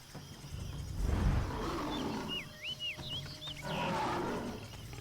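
A lion at a zoo lets out a low, rumbling roar, followed by fainter growls and breaths over quiet background noise, with high bird chirps partway through.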